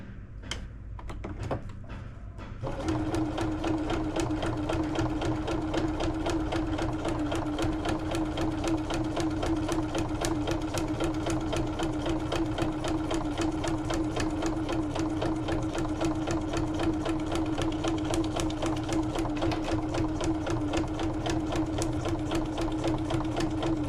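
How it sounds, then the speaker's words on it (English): After a short quiet start, a sewing machine runs continuously at a steady, rapid stitching rhythm, close and clear, with no talking. "let's go back to the sewing machine"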